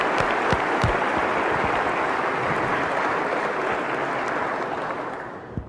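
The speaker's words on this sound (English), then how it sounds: "So now, clap for them." An audience at West Virginia's State of the State address claps together for the university presidents and staff, a broad, even wash of applause holding steady for several seconds before tapering off.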